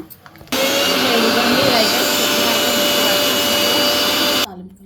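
A mixie grinder blending ajwain leaf chutney, a loud, steady whirring motor roar that starts abruptly, holds for about four seconds and cuts off.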